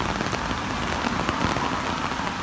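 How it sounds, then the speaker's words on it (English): Heavy rain pours down steadily on a woodland walk, a dense, loud wash of drops hitting surfaces all around with no pauses or voices. "Absolutely hammering it down."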